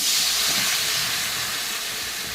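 Lukewarm water poured into a hot pan of fried cauliflower and potato curry sets off a loud, steady hiss of steam and sizzling that slowly eases over a couple of seconds, with no talking.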